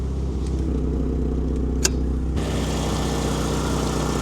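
A warm Proton Satria GTi with its Mitsubishi engine idles steadily, a loud, even engine drone with a rough, puffing edge from a manifold blow. A sharp tick stands out partway through, and the tone turns brighter and fuller near the end.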